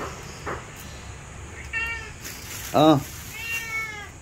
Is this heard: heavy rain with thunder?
no